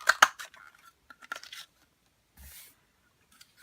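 A scallop tag topper punch bites through a paper tag in a few short crunching snaps close up, followed by a softer rustle, with quiet gaps between.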